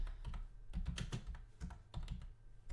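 Quiet, steady typing on a computer keyboard, a continuous patter of key presses with small pauses and no voices.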